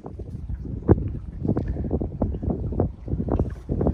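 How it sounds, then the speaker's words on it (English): Strong gusty wind buffeting the microphone, a loud rumbling roar with uneven thumps and surges throughout, no talking. "Windy as hell today"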